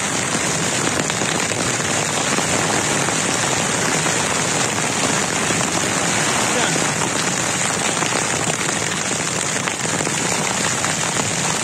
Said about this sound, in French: Ça grêle et tout, je me prends la grêle.